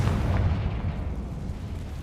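Confringo blasting spell explosion in the Hogwarts Legacy video game, a deep rumbling boom that stays loud and sustained across the whole stretch, with no talking over it.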